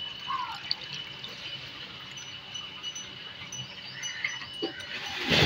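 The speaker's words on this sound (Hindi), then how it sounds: "कि फर्स्ट टाइम इनको पानी पिलाया जा रहा है।" Water being given to cattle at a livestock market in Multan, a soft steady run of trickling and dripping water with faint background noise and no clear speech.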